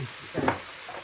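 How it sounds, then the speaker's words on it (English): Cabbage stir-frying in a pan with truffle oil gives a short, close sizzling burst that swells and fades within about a second. "This is stir-fried cabbage."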